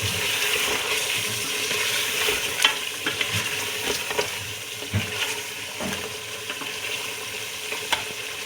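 Champ salan simmering with yogurt in a pan gives a steady frying sizzle with occasional stirring scrapes and clinks, close and moderately loud, with no talking.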